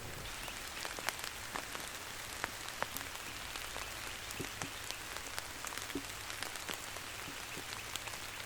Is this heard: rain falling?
yes